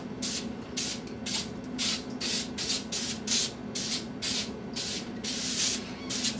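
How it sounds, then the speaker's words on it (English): Cooking oil sprays from a can onto a cookie sheet in a quick run of short, rhythmic hissing bursts, close by and evenly spaced, with no talking. "With our cookie sheet, it's best to give it a spray down with some oil first."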